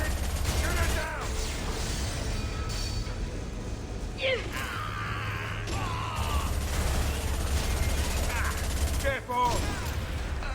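Heavy gunfire in Mass Effect 2 combat: dense bursts of shots and mechanical clatter rattle on throughout, with sharp loud cracks and booms, under a chaotic mix where voices call out briefly.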